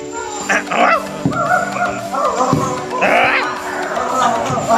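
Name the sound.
dog barking at a jobsite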